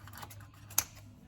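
Cutting a pastry decoration for an Alsatian pie, with a quiet kitchen backdrop broken by a single crisp snip near the middle.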